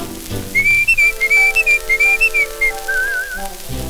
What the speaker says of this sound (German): er pfeift frech und smart